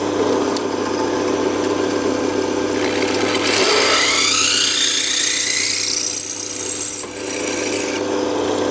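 A power drill with a 6.8mm bit bores into slightly hardened steel, a steady loud whine that shifts upward in pitch as the cut progresses, with no talk.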